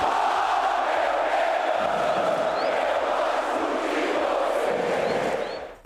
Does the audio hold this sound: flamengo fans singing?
yes